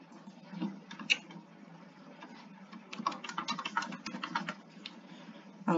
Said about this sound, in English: I'm going to type in her name.